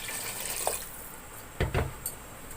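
Water from a glass splashes briefly onto fried potatoes in a cooking pot, a short faint gush with a couple of small splashes over quiet kitchen background.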